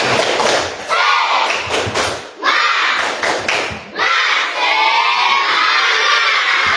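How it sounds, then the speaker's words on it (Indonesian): Fifth-grade pupils in an Indonesian classroom perform a rhythmic spirit clap, bursts of sharp claps and thuds in quick patterns broken by short pauses, with their voices shouting and chanting loudly along. "Tepuk semangat"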